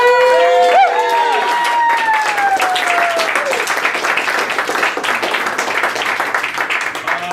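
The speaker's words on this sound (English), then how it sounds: "Give yourselves a round of applause." Audience applause at a live comedy show, loud and sustained, starting just as a voice trails off and continuing as a dense crowd of claps with some cheering.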